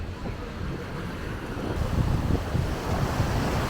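Ocean surf at a beach on Isla Saona in the Dominican Republic, a steady loud wash of breaking waves mixed with heavy wind rumble on the microphone and no voices.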